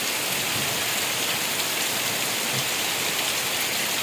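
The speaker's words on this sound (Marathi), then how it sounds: "पाऊस बघा कसला तुफान चालू आहे" Heavy, stormy rain pours down in a dense, constant roar of hissing drops, loud and unbroken throughout with no voices.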